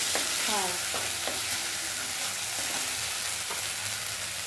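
Onions frying in oil in a pan while being cooked down for stuffed pointed gourd with prawn filling, a steady close sizzle with a few stirring scrapes throughout.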